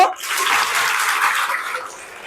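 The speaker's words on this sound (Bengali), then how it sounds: "আরেকটা হাততালি দাও তোমাদের বাবার জন্য" Students at a girls' high school clap in a continuous wash of applause that starts strong and gradually thins toward the end.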